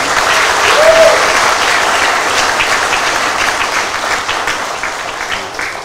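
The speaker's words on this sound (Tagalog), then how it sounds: "Palakpakan nyo naman si General Balba." A crowd at a Manila police event claps loudly and steadily, dense applause close by that fades slightly toward the end, with a voice faintly audible beneath it.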